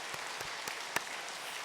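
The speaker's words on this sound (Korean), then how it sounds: "박수로 환영하도록 하겠습니다" A church congregation applauds to welcome new members during a Sunday service: a few faint, scattered claps stand out over a quiet room, one sharper clap near the end.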